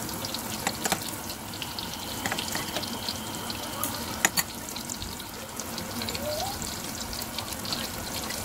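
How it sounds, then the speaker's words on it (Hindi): Dal bhalle deep-frying in hot oil, a steady bubbling sizzle running throughout with a few sharper clicks and pops, fairly close and even in level, no talk. "इसी तरह हम बाकी के सारे भले भी फ्राई कर लेंगे"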